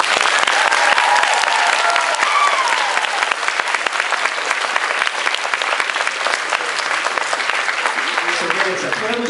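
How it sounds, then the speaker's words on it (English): A large convention audience claps steadily for staff and volunteers at an opening ceremony, dense applause throughout with a few voices mixed in and a faint talking voice near the end. "So would you please join all of them for a round of applause."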